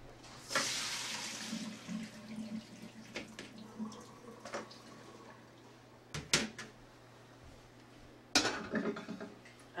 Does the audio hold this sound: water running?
yes